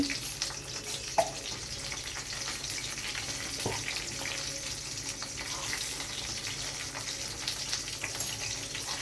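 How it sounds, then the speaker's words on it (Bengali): Fish frying in a pan for a home-cooked lunch, giving a steady, even sizzle with a few faint clinks, close and moderately quiet, with no voices. "যতক্ষণে মাছগুলো ভাজা হচ্ছে"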